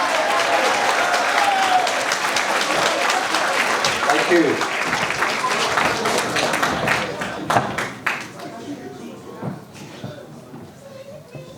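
A graduation ceremony audience applauds the school principal, Mr. Taylor: loud, dense clapping from a large crowd that thins and fades out near the end, with a voice briefly speaking over it.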